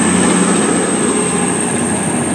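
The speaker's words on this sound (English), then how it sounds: "This one's the class 220 cross country Voyager service from from Manchester Piccadilly to Paignton" A class 220 CrossCountry Voyager diesel train running from Manchester Piccadilly to Paignton passes through Newton Abbot station with a steady, loud rumble and a high whine, no voices.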